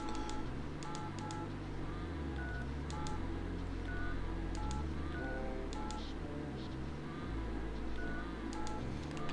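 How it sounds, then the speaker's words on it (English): Swiss One mobile phone ringtones play in quick melodic sequences of beeps and chirps, fairly quiet and continuous, shifting from one tune to the next. "this one has pretty awesome ringtones"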